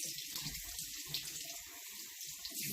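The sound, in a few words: rinsing makeup brushes under running tap water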